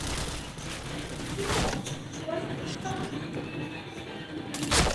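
Gunshots from a first-person shooter video game, scoring chained headshots, with sharp shots crackling over dense game noise while people talk excitedly throughout.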